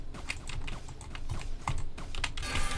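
Computer keyboard typing during a round of the Roblox game Blade Ball, a steady run of quick, close key clicks with no talking.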